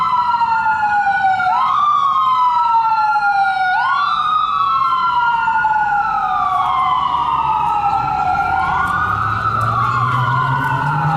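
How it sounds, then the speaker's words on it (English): An ambulance siren wails loudly and continuously, its rising and falling tones cycling over and over, with road noise beneath as the ambulance passes close by. "I'm gonna let that ambulance go by."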